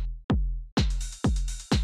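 Techno kick drum layered with a snare sample in a club beat: deep booming kicks with long low tails and bright snappy snare cracks on top, repeating in a driving rhythm with no talk.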